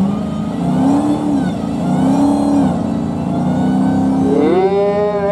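A 2020 Dodge Challenger with 700 horsepower accelerates at the Barona drag strip, its loud engine note rising and falling in pitch, then climbing steeply near the end, with no talk over it.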